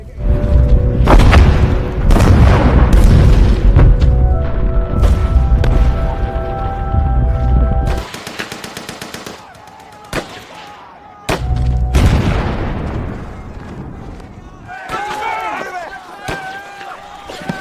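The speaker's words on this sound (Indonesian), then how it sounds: "Dengan keberhasilan mereka meledakkan pos bunker Jerman, dari markas pusat memerintahkan Sersan Jack" Explosion blowing up a German bunker in a war film, with deep booming blasts and rumbling debris that fill the first half, then a sharp cut to quieter clatter and distant thuds.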